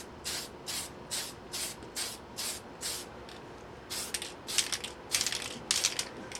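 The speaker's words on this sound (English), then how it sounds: "shake up my paint, and then do quick sprays back and forth." A spray paint can hissing in a series of quick, short bursts, roughly a dozen evenly spaced sprays that get slightly denser toward the end.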